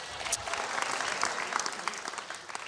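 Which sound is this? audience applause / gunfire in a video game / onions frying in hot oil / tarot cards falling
audience applause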